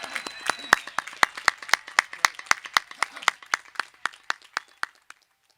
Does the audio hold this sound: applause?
yes